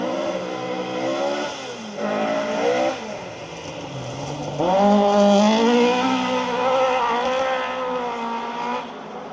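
Rally car at speed on a hill stage of the Roger Albert Clark Rally, engine rising and falling through gear changes with possible puncture, heard loud and fairly close with no talk over it.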